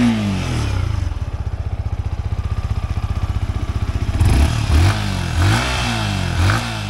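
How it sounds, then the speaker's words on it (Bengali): A 2025 Yamaha MT-15 2.0 motorcycle exhaust thumps at a fast, even idle pulse, then blips into a few sharp revs toward the end, loud and close with no talking. "আপনাদের এক্সজস্টের সাউন্ডটা একবার আপনাদের শুনিয়ে দিই।"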